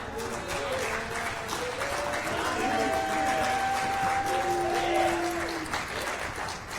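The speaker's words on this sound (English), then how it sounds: "You can clap." Audience applause at an athletics hall of fame ceremony, steady clapping from a crowd under talking and cheering voices, with whistle-like tones rising briefly through the middle.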